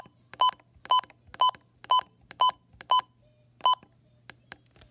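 A Midland WR120EZ weather radio gives a series of short, crisp electronic beeps at its button, six evenly spaced tones followed by a pause and a few more, close and clear over faint hum.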